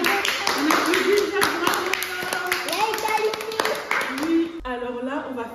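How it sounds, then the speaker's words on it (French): Lively clapping from a group of children, with chattering voices and music-like tones running underneath, ending in a brief burst of sound. "Allez, on applaudit. On applaudit."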